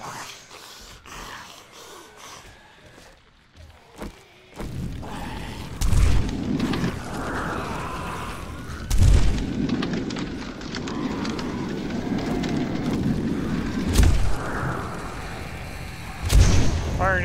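Fire NATO spell explosions in the 7 Days to Die Sorcery mod, a series of heavy booming blasts with rumbling tails at irregular intervals over a continuous noisy game background.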